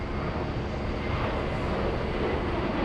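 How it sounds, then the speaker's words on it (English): An American Airlines jet departing JFK for Los Angeles produces a broad, continuous roar of engine noise, steady and fairly distant, with no talking. "American 33 flying to Los Angeles."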